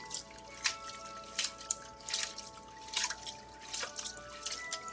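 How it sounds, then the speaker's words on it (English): Tap water rinsing sea moss, also called Irish moss, in a metal sifter, heard as a soft, close trickle with light splashes and drips recurring in irregular pulses, fairly faint. "So you open the pipe and you wash it out."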